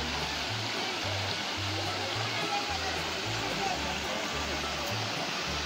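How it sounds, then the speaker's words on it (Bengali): A waterfall at Panchalingeswar hill, running with a low flow where people bathe, gives a steady, even broadband rush of falling water that continues unbroken throughout, with low tonal background sounds underneath. "এই হচ্ছে পঞ্চলিঙ্গেশ্বরের ঝর্ণা, দেখতেই পাচ্ছেন উপর দিয়ে বয়ে আসছে"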